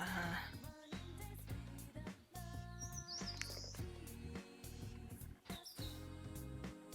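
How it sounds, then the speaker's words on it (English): Virtual birds chirp in the social VR game VRChat, short high tweets and calls scattered across several seconds over a busy bed of game sounds and tones. "I am still following all the birds that spawn up here."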